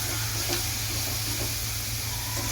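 Onion frying in a pan for a brinjal bharta recipe, a steady close sizzle with constant bubbling hiss and faint stirring scrapes, no voices.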